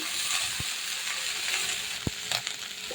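Broccoli fries with cumin seeds in a pan of hot oil, a steady close sizzle with a few sharp pops and clicks of stirring.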